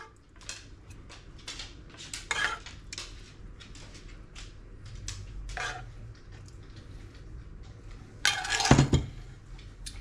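Chili and cornbread are served onto a plate with a run of light clinks and taps of utensils against crockery, scattered and close, ending in a louder scraping clatter.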